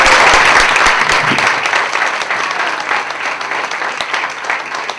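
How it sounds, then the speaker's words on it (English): Loud, dense audience applause at a comedy club after a stand-up set, steady clapping that stays strong throughout and eases only slightly by the close. "Clap it up for him."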